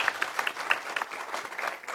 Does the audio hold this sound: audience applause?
yes